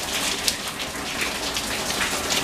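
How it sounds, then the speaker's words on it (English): Heavy rain pours down in a dense, steady hiss with scattered louder drops splattering close by. "I also hate torrential rain."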